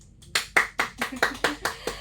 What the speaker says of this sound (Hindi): एक बार तो तालियां हो जाए इसी बात पे।